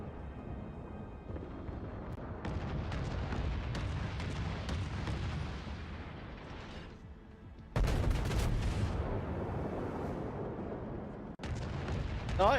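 Heavy naval gun salvos boom and rumble in a warship battle game, a dense continuous barrage with a fresh loud volley midway and another near the end.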